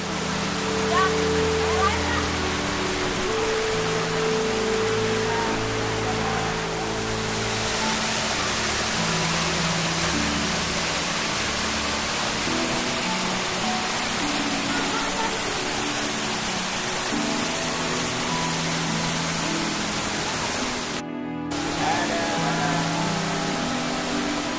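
A waterfall at a camping ground in Puncak roars as constant broadband rushing water, steady and fairly loud throughout, with a low tonal layer underneath early on and a momentary dropout near the end.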